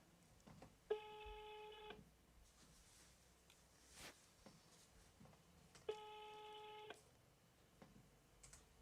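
A telephone rings twice in long electronic bursts about five seconds apart, faint and thin against quiet background noise at a paragliding race venue in Le Grand-Bornand, France.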